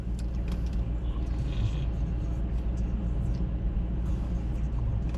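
Steady road rumble from a car cruising along the M1 motorway, a continuous low drone of engine and tyre noise at even loudness throughout with no talk.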